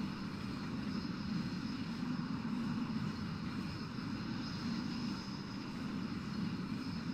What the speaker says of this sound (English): This is what it looks like when the aircraft takes off, or is about to take off